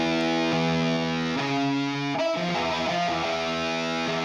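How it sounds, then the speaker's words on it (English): Heavily distorted prog metal guitars and a vocal sit in a dense mix with a plain room reverb on the vocal. Sustained chords shift pitch and hold loud and continuous throughout, with no speech. "room reverb is just no preset, set fairly standard really"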